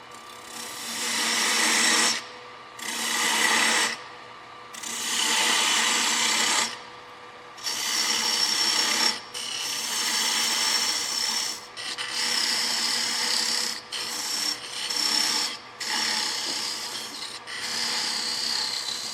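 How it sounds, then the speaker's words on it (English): A drill bores a 1/16-inch hole through wood on a lathe while turning a peppermill, in repeated bursts, a rasping whir that stops and restarts about a dozen times, close by, with no talking. "We're drilling a 1 16th inch hole through the whole thing."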